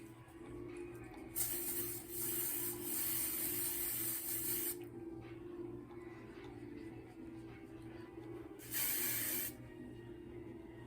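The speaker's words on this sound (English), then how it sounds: "I just wanted you guys to see me spray my hand." A spray bottle fires two bursts onto a hand, a long hiss of a few seconds and a shorter one later, over a low steady hum.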